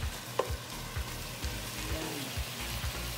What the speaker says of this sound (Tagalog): hinalo lang natin siya sandali para hindi dumikit yung karne sa pot